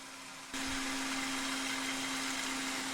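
A kitchen blender kicks on after a brief quiet moment and grinds broccoli pasta sauce ingredients with oil, salt and pepper, producing a loud, steady whirring motor drone that holds constant to the end.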